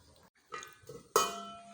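Bitter leaf soup in a pot is stirred with a metal spoon, giving a few short scraping strokes and a sharp clink against the pot, close and quiet with brief pauses.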